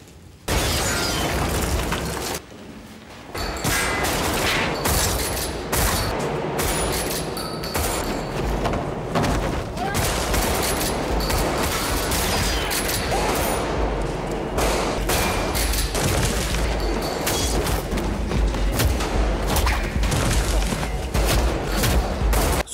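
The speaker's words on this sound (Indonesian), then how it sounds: "Dan rombongan pasukan ketiga ekspil masuk dan mulai menembak." Shootout in an action film about an undercover agent among yakuza, with sustained loud gunfire, booms and thuds that barely let up apart from a brief lull early on, all dense and close.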